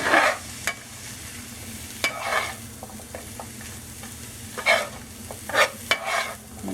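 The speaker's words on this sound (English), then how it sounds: "Just keep stirring it over and to keep it from sticking to the pot and stuff like that." Ground beef cooking in a pot, a soft steady sizzle broken by several scraping stirs of a spoon against the pot, close and fairly quiet, with no voices.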